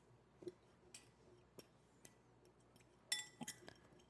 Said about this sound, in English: Now I'm going to take my fork and I'm going to mash up